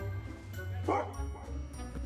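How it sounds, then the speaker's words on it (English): A single sharp dog bark rises briefly over steady low background rumble, close by. "he'll bark to warn the neighborhood"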